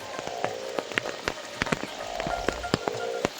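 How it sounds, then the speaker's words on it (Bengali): A heavy downpour flooding a village, with a constant wash of rain and loud, crisp drips striking a nearby surface again and again. "প্রচুর বৃষ্টি হচ্ছে আজকে সকাল থেকেই।"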